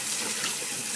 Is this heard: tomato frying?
no